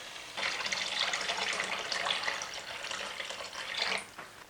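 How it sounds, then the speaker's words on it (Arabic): Water pours steadily into a cooking pot to boil meat for kabsa, a continuous splashing rush lasting several seconds before cutting off abruptly. "اضافة الماء لسلق هيدا اللحم."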